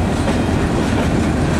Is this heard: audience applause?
no